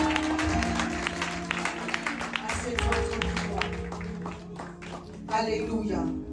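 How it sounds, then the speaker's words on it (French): Church congregation claps and cheers in offering to Jesus, a continuous crowd roar with ringing tones and a voice heard through it, swelling again near the end. "Fais une offrande d'acclamation à Jésus."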